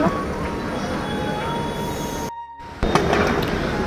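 Metro train at a station in Bangalore, a steady rumble with faint high wheel squeal, briefly cut to near silence before the rolling noise returns.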